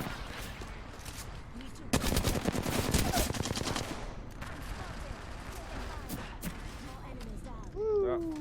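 Rapid bursts of automatic gunfire rattle loudly in an Apex Legends style video game, with a dense volley in the middle and scattered shots after, while someone talks over the action.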